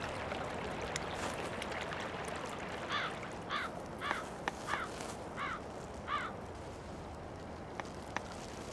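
Several harsh caws of carrion crows and magpies ring out in a short run in winter in Korea's DMZ, fairly distant over a steady rushing background of flowing water.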